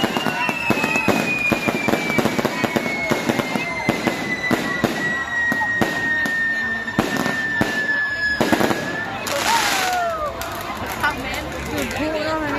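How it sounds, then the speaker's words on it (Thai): Fireworks go off at a village funeral in Savannakhet, Laos: rapid loud crackling bursts and bangs run throughout, with a long rising whistle and background crowd babble and voices. "จุดพลุเนาะพี่น้องเนาะ"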